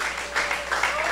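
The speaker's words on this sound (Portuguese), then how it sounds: "Você pode aplaudir a Jesus" Congregation applauding during a church service, a continuous wash of clapping at moderate loudness with slight swells, a voice faintly audible beneath.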